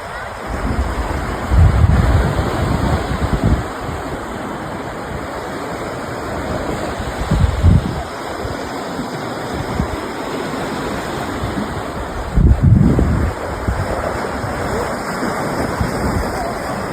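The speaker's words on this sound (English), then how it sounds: "was kind of windy that day as well, as you can hear in the video" Wind blows hard at the seaside in Nova Scotia over the constant roar of surf, with several strong gusts buffeting the microphone in low rumbling bursts.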